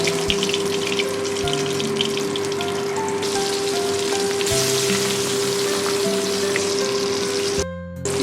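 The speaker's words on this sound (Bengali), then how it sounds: "বাকি মাছগুলো এই তেলে আমি ভেজে নেব।" Bhetki fish pieces frying in hot oil in a home kitchen for a Bengali curd fish curry, a steady dense sizzle and crackle running close and loud throughout, with a brief drop near the end and no talking.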